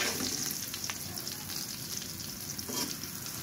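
Onion and garlic fry in a pan with a bright, constant sizzle and occasional stirring clicks, fairly close and without speech.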